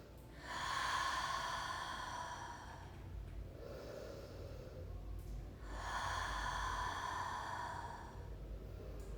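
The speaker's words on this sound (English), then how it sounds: "Take a nice big inhale through the nose. Exhale, sigh it out through the mouth." Two slow, deep breaths during a yoga-style core and posture routine, each a long airy inhale through the nose followed by a softer sighing exhale through the mouth, close and fairly quiet with no talking.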